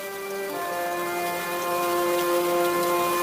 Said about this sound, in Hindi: ये तो बहुत जोरदार बारिश हो रहा है